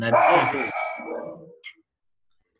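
A dog barks loudly nearby in a burst of yelps that fades quickly to silence, overlapping a person talking during an online class.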